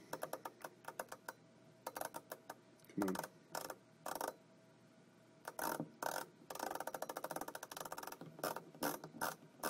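A screw is driven into an RV exterior door handle with a ratcheting screwdriver, making close, quiet bursts of rapid clicking in irregular spurts with short pauses and a few louder knocks.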